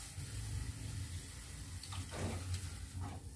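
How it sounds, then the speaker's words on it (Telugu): Boiled and cooled milk poured into semolina, a steady liquid stream splashing and trickling close by, alone with no talk, while preparing purnam boorelu. "కాచి చల్లార్చిన పాలు వేసుకోవాలండి"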